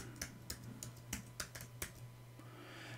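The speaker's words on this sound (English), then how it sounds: "So I'm going to type it in." Keystrokes tap out on a computer keyboard in a short, uneven burst of about seven distinct clicks over a steady low electrical hum, with no talking.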